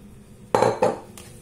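Cauliflower is stirred into a mixture in a bowl, two close, loud scraping clatters of a utensil against the dish, then a fainter tap.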